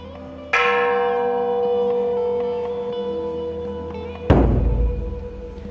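A Buddhist temple bell (genta) and drum sound during a Waisak ceremony at a vihara in Sunter, North Jakarta: one bright bell strike rings out with a long sustain, then a single heavy, deep drum hit lands near the end.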